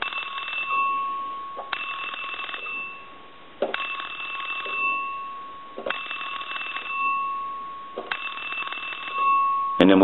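An Entel rotary desk telephone under repair rings its bell in about five repeated bursts, each a bright metallic ring cut off sharply, close and fairly loud.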